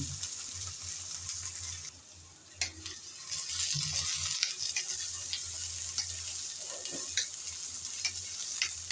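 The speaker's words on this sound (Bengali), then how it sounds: "তেল গরম হয়ে যাওয়ার পর দিয়ে দিলাম কিছুটা পরিমাণ পেঁয়াজ কুচি।" Chopped onion dropped into hot oil in a pan for a ridge gourd curry, a continuous close sizzle with scattered stirring clicks and scrapes, moderately quiet, with a low hum underneath and no voices.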